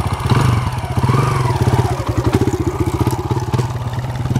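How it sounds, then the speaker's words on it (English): A dirt bike engine runs close by with a rough, rapid putter, revving up and down in uneven pulses throughout, with a little clatter mixed in. "That's my dirt bike, by the way."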